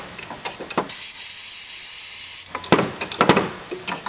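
Heavy-duty silicone lubricant sprays in one steady hissing burst of about a second and a half onto the solenoid shafts of a Whac-a-Mole arcade game, with clicks and handling noises around it.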